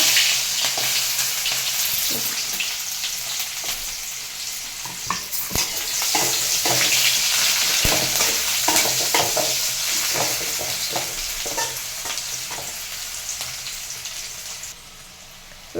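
Onions fry in oil with mustard seeds, giving a loud continuous sizzle and crackle with repeated stirring clatter and scrapes, close and steady, with no talking, then a brief drop near the end.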